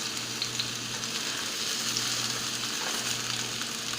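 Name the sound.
eggplant sizzling in oil in a pot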